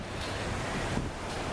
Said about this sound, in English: You see the wind blowing. That's blowing directly from the lake is what we're getting here.